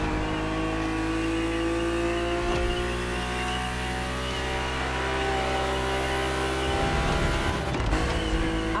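BMW race car in The Crew Motorfest video game, its engine droning loud and steady with shifting revs, then a burst of tire squeal and skidding near the end, with no talk.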